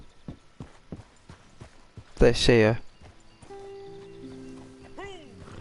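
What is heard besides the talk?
horse hooves clip-clopping in Red Dead Redemption 2 Online video game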